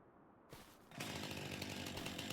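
A chainsaw cutting trees in Farming Simulator 25 revs up after a brief quieter start, then holds a loud, steady buzzing drone with no speech.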